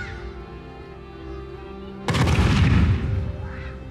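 Fireworks at a pyrotechnics event: a sudden loud launch whoosh and deep boom burst in midway after a steady background hum, the blast rumbling and fading over the next second or two.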